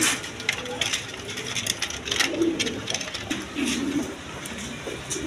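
A breeding pair of pigeons coos close by, low repeated murmuring calls with light rustling and shuffling around them.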